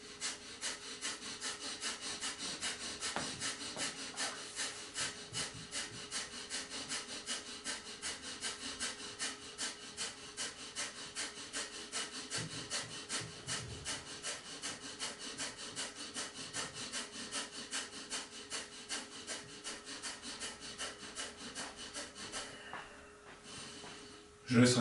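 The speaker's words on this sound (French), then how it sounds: "je me sers de ma sangle abdominale pour mimer une sorte de respiration rapide" Rapid Kapalabhati yoga breathing with forceful abdominal exhalations through the nose, a quick steady rhythm of breathy puffs repeating close up for over twenty seconds before stopping.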